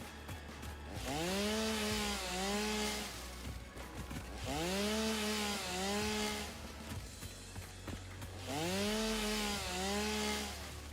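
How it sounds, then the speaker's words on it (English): A chainsaw cuts wood in the game Satisfactory with three rising and falling revving bursts, each a loud whine with a gritty cutting rasp, separated by short idling gaps. "chainsaw time. I need some wood."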